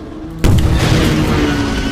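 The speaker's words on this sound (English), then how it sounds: "I think we can finish him off with a few rockets" A rocket strikes in a T-Rex video game with one sudden, loud boom. A dense, roaring rumble follows and stays strong to the end with little fading.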